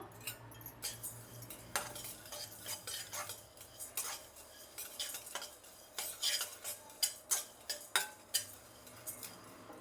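Cumin, black pepper and fenugreek dry roasting in a pan, with quiet rattling of seeds and repeated sharp clinks and scrapes of a metal spoon against the pan at a steady pace.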